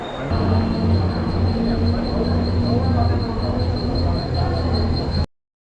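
A steady, loud rumble of a train at Thane railway station with a constant high whine and low hum, continuous throughout before cutting off abruptly.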